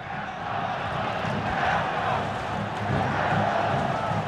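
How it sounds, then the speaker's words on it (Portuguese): A football stadium crowd at a Vasco versus Aurora Copa Sudamericana match chants for a player, a steady, massed roar of voices that swells gently and holds without break. "Torcida pede Elton."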